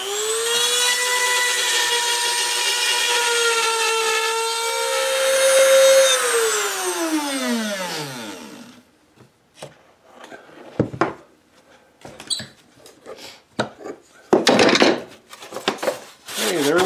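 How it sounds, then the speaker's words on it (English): Router cutting a sound hole ring into a wooden guitar top: a steady, loud whine with a falling pitch as it spins down, followed by scattered clicks and rubbing handling noises. "just cut out the hole for the sound hole, and I'm going to use that same router setup that I used for making these rings"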